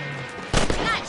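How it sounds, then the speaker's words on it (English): A gunshot in the Western video game Red Dead Redemption, fired while hunting rabbits. One loud, sharp blast cuts in partway through, followed by a short rumbling tail over a steady background of game ambience. "Better at shooting rabbits than outlaws, I see."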